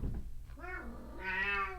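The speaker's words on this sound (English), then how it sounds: "You are the loudest cat. This cat is too loud." A loud, close-up cat meows in two drawn-out, rising and falling calls, loud throughout and with no voices over them.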